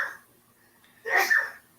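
A single sharp human sneeze, close and fairly loud, with a short intake before the burst and no talk over it.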